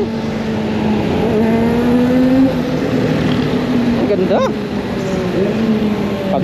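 A Kawasaki four-cylinder sport motorcycle, a ZX-4R or ZX-25R, drones loudly and steadily in traffic, its engine note climbing briefly in a short rev before settling back.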